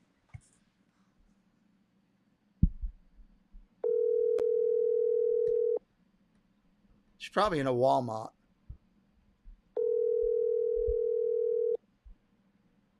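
Telephone ringback tone heard while dialing, two long steady tones separated by a pause, fairly faint and alone, with a brief burst of speech and small handling clicks between them.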